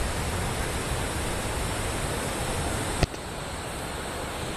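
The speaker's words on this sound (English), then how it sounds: "you can see the creek just roaring down" Crystal Cascades creek roaring down its rocky bed, a loud, steady broadband rush of fast water that fills the whole clip, with one brief sharp knock near the end.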